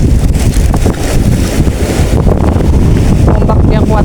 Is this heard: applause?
no